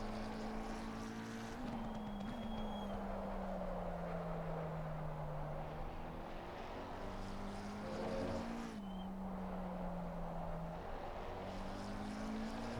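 Race car engine at full throttle in an Indianapolis racing sim, a steady droning whine rising and dipping with gear changes and throttle lifts, loud and continuous throughout with no talking.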